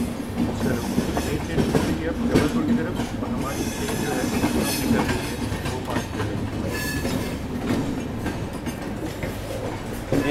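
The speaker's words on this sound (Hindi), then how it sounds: "जबलपुर की तरफ हमारी ट्रेन जो है वो पास कर रही है।" Howrah Mail passenger train running between Mumbai and Howrah rolls past toward Jabalpur, a steady rumbling rush of wagons with rhythmic clickety-clack and faint wheel squeal, loud and close throughout.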